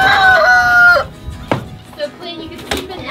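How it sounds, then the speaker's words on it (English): A big white rooster lets out a loud, close crow beside its coop, followed by a few sharp clucks and scattered fowl noises nearby. "Manny is our Moran's rooster, the big white one"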